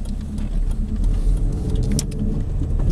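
An LPG-converted Vauxhall Astra with a newly fitted clutch pulling away on a test drive, its engine a steady close rumble rising slightly as the car moves off, with no talk over it.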